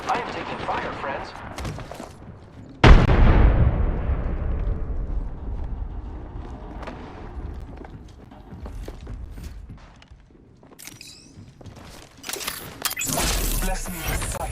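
Apex Legends video game gunfire opens with one loud, sharp blast that decays into a long rumble, followed by scattered shots, mechanical clicks and game voice lines.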